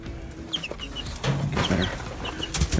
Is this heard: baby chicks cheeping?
yes